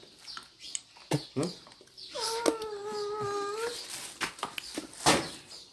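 A dog howls in a long, wavering tone lasting over a second, rising out of a household scene where people chatter and other short dog sounds come and go around it.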